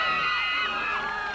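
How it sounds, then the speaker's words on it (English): Large crowd cheering, whooping and shouting continuously at a 1994 high school football game between Crooksville and Tri-Valley, a loud, dense roar throughout. "Big crowd here tonight at Crooksville."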